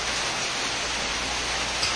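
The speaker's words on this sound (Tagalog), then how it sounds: "Ayan, ulan na. Ulan na." Rain pours steadily in a broad, even hiss during a typhoon, loud and unbroken for the whole stretch with no other sounds standing out.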